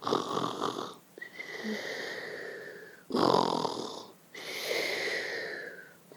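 A voice imitates a sleeping mouse snoring loudly, with two slow cycles of long wheezy inhaled snores and raspy exhales, close and alone.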